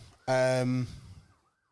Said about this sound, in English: new surroundings, police sirens outside